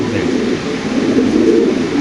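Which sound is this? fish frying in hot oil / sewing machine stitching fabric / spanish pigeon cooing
spanish pigeon cooing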